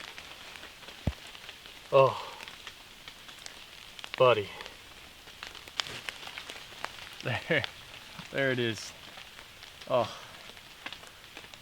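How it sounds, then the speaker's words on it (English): Rain falls on the ground in Missouri woods, a faint steady hiss of drops all around, heard under intermittent excited speech from a nearby voice. "You can hear all around me right now rain hitting the ground"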